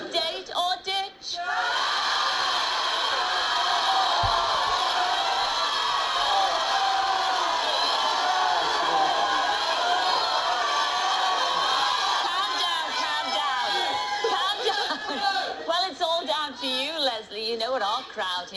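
A TV dating-show studio audience shouts, whoops and cheers loudly and continuously, a dense wall of crowd voices rising and falling, with a host speaking briefly at the start.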